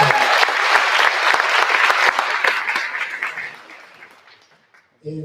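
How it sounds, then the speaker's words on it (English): Audience applause at an International Women's Day event, a room full of steady clapping that gradually fades out over several seconds, ending in brief silence before a voice begins. "Please have a round of applause for Diana and APM and everyone in this room."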